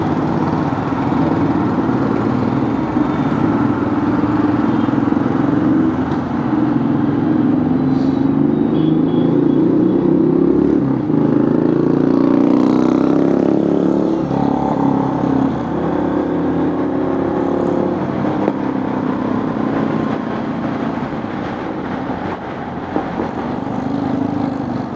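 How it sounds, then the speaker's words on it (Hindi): Harley-Davidson motorcycle engine and exhaust, a deep continuous rumble that swells as the throttle rises in the middle and then settles, steady and fairly loud throughout with no talk over it. "काफ़ी टाइम से ऐसे एग्जॉस्ट की आवाज़ आ रही है"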